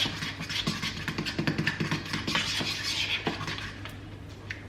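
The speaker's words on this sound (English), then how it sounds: "I feel like this would be going way better if I just like grabbed a whisk, but I've already gotten so far with just my fork." A fork stirring and scraping almond icing in a bowl, making rapid rhythmic clinks and taps against the dish, close and fairly loud with no talk.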